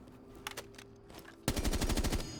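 Automatic gunfire in Rainbow Six Siege during recoil practice, a couple of faint isolated shots and then a loud, rapid sustained burst of fire lasting about a second.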